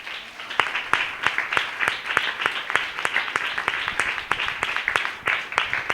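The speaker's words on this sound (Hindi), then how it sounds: "हम जोरदार ताली से उनका स्वागत करें।" A church congregation at a sermon gathering claps loudly in unison, sharp evenly spaced claps in a steady rhythmic beat that fills the room.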